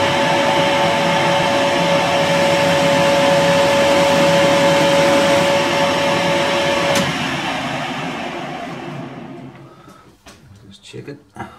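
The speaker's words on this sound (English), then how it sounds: "I'm going to just machine this register for the rear seal" Lathe machining a register for a rear seal on a powered lathe slotter build: a steady whirring hum with a sustained whining tone that cuts out near seven seconds, then spins down and fades to quiet handling noises.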